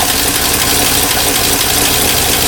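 A 1958 Studebaker Commander engine idles steadily and smoothly, a loud, continuous close-up rumble with no talking.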